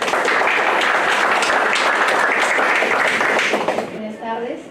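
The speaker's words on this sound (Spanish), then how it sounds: "Le brindamos un fuerte aplauso." Conference audience applauding for several seconds, a dense steady wash of many hands clapping that fades out near the end as a voice starts speaking.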